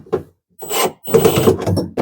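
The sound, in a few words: drill tightening during Manitowoc ice machine pump repair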